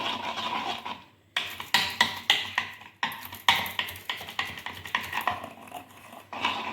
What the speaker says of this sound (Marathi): आपण चिमूडभर सोडा टाकून घेऊया आणि याला असं छान असं मिक्स करून घेऊया